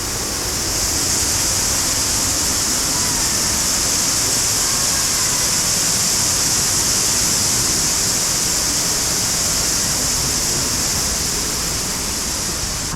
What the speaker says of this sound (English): Going behind the waterfall.